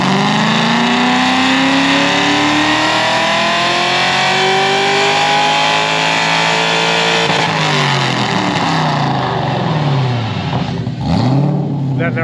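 A GTO's engine revs hard on a dyno, its harmonic tones climbing steadily for about seven seconds, then dropping and rising again in a loud, continuous roar that wavers near the end.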